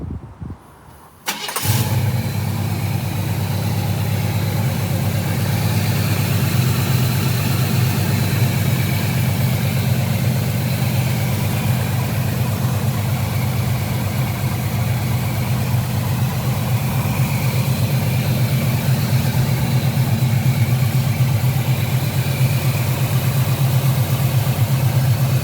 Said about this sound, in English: I want to do a startup on this 1976 Camaro with a 350 automatic drive.